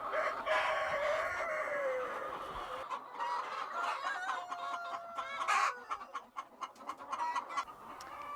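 A flock of chickens clucking and squawking nearby as they scratch through cow patties, with overlapping calls and a rooster-like crow amid steady outdoor background noise.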